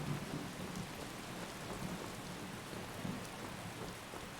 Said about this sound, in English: rain and thunder sound effects in this game are very, very good.